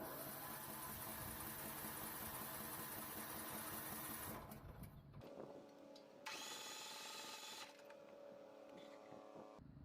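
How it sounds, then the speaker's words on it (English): A steady, loud mechanical whirring with gritty scraping, as a wire brush grinds rust off the spinning flywheel of a rain-exposed Troy-Bilt riding mower engine being turned over; the tone drops and shifts partway through. "pressing the brush against the flywheel and turning the engine over"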